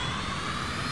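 An aircraft engine in the Arma video game spools up after being switched on, giving a steady, dense, loud roar of jet-like noise that fills the short moment with no pauses.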